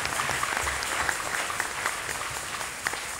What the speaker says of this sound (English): Give a clap offering to Jesus as you have your seat.